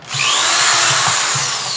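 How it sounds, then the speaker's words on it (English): A power drill whirs steadily at close range for the full stretch, its high motor whine sliding in pitch with a rhythmic low thump underneath, no voices over it. "I'm gonna do a little drilling"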